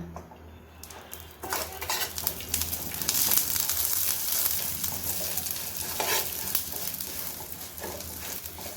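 Vermicelli fried in about a spoonful of ghee and stirred steadily in a pan, giving a continuous close sizzle broken by scraping, clinking stirs against the metal, with no voices.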